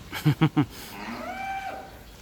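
After three quick short sounds, a dairy cow lets out a long, drawn-out moo nearby on a buffalo farm in Chanthaburi, Thailand, rising then fading, with faint background noise.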